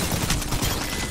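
Alternator SMG with disruptor rounds in Apex Legends, a short loud burst of rapid automatic fire lasting about a second.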